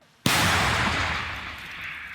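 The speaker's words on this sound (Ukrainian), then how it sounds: "Танкісти відпрацьовують вміння вести вогонь як із прихованих позицій капонірів, так і з відкритої місцевості" A tank gun fires once during crew training on an open range, a single sharp, loud blast followed by a long rolling echo that slowly fades.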